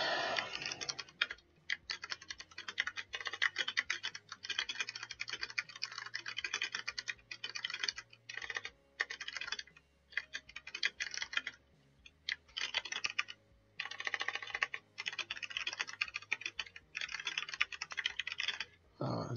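Steady typing on a computer keyboard during a game development session, with rapid clustered keystrokes in bursts separated by short pauses, close and moderately loud throughout.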